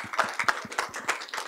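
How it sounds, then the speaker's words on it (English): A few people clapping at a board of education meeting for honoured schools, sparse separate claps close by and fairly quiet, in a short steady patter. "how about a round of applause for these amazing schools?"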